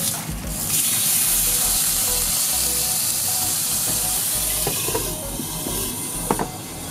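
Avocado and tomato frying in a pan right after being flipped, a steady broadband sizzle and hiss that holds throughout, with a few light clicks and taps near the end.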